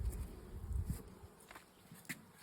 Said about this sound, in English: Got a good population of bees.